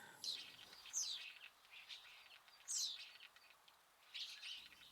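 Starlings at a garden bird table give faint, scattered chirps and whistles in a few brief bursts over quiet background.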